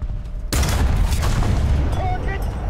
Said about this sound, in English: we're getting shot by another air hero